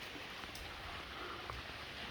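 Rain falls steadily through the night outside a house, a faint, even hiss of drops with no voices.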